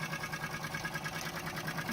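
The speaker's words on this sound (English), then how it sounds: "A little D10 steam engine in action over here." Rapid, even chuffing of a vintage Wilesco D10 toy steam engine running steadily, close by with a constant mechanical rhythm.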